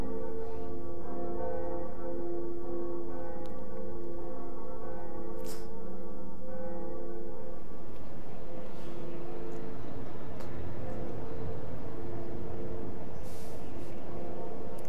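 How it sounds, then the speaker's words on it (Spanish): The second Bell of Awakening rings in Dark Souls: a deep, resonant toll that sustains and slowly fades, followed by a rumbling, noisy swell of ambient sound with a few sharper clanks, loud and without speech. "La campana, la segunda campana del despertar."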